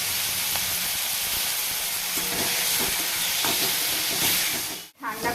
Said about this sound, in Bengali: এবার চিংড়িগুলোর মধ্যে একটু নুন হলুদ ছড়িয়ে সেগুলো ভেজে নেব